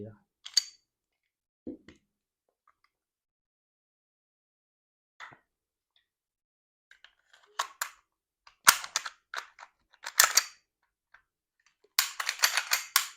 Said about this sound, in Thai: เดี๋ยวเรามาลองยิงกัน ดีกว่าว่าจะเป็นยังไงนะครับ